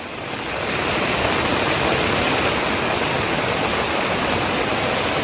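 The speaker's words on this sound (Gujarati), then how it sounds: "હિંમતનગર તાલુકાના પેઢમાલા ગામે ડુંગર પરથી પાણી ગામમાં ઉતર્યા" Floodwater rushes down from a hill into Pedhmala village near Himmatnagar during heavy monsoon rain, a steady, loud, close roar of churning water that swells in over the first second and then holds constant.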